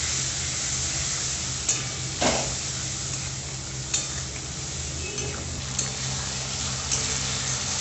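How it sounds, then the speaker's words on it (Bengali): Marinated bam fish fries in a pan with a continuous close sizzle, broken by a few sharp clinks and stirring scrapes of a utensil against the pan; no talking. "একটু ভাজা করে কষবো এটাকে, যাতে একটু মাছটা এর সঙ্গে একটু ভাজাও হয়ে যায়"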